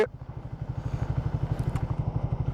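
A motorcycle with a modified exhaust thumps past with a loud, rapid, throaty exhaust pulse, the beat building slightly as it nears.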